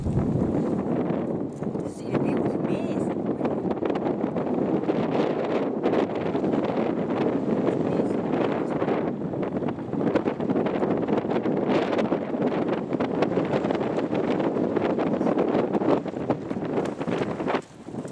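Strong, steady wind buffets the microphone throughout at the Garleton Castle ruin, a constant roaring rush with gusty surges.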